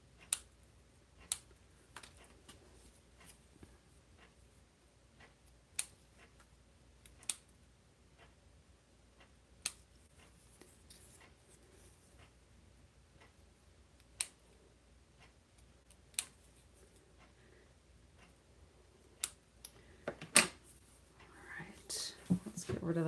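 Scissors snip through leftover basket-weaving scraps in a quiet room, sharp isolated clicks spaced every few seconds, growing busier with handling noise near the end, under a soft low background.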